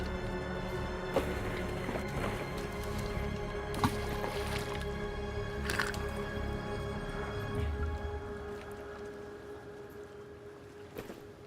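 Water is collected in the Sons of the Forest survival game: soft watery sloshing and dripping over a steady ambient drone, with a few clicks and splashes. No one speaks.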